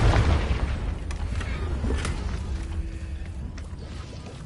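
A Confringo fire-blast spell explodes in Hogwarts Legacy as a deep, loud boom at the start, its rumbling roar slowly fading over the following seconds.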